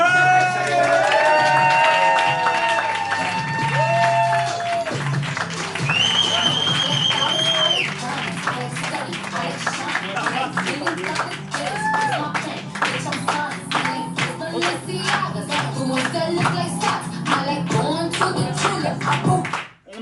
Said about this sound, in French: une chaudement d'applaudissements pour nos guests de la soirée, Fabrice et Caroline